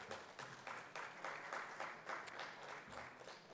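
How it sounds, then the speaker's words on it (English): Steady crowd applause at an education conference panel discussion, many hands clapping at once in a dense, even patter that holds for a few seconds without a break. "Let's give them all a big round of applause."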